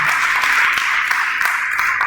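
An audience at a talk on ESG and corporate sustainability applauds, a continuous, even wash of clapping from many hands throughout, with no clear voices.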